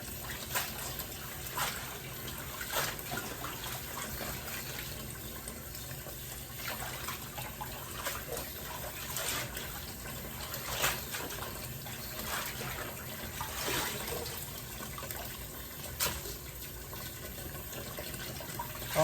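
Cold to lukewarm tap water runs into a sink as collard greens are rinsed, a continuous splashing stream with occasional louder splashes and handling bumps, close and steady throughout.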